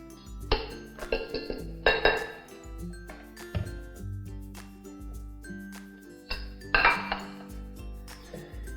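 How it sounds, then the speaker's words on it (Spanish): Clinking of metal and glass parts as a hand blender is taken apart, scattered taps and rattles at a moderate level with quiet gaps between them. "desmontamos la batidora"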